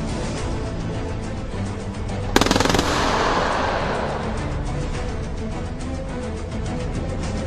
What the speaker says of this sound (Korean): 야간 사격 시험